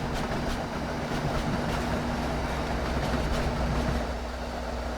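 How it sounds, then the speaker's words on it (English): Trains moving around a busy rail yard in Train Sim World 2, near Boston, a dense steady rumble of rolling stock with faint rhythmic clatter and a low engine hum, continuous and moderately loud, no voices. "You can hear a lot of trains moving around in the yard"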